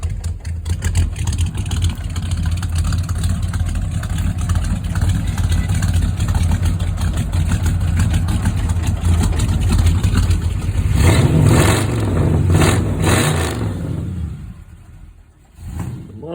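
A 1963 Pontiac Star Chief V8 with a new stainless exhaust rumbles steadily at close range, with a louder rev swelling around the middle before the engine cuts off and briefly restarts.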